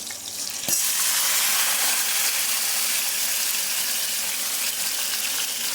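Potato pieces sizzle loudly in hot oil in a pan, a dense continuous frying hiss that starts abruptly and holds steady, as they are lightly browned for a chicken curry.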